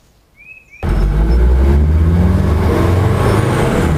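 A Jeep CJ7 fitted with an OM617 turbo diesel, Dieselmeken pump and Holset HX30 turbo starts off from a stop with a sudden loud, steady diesel rumble that carries on close by, with no voices.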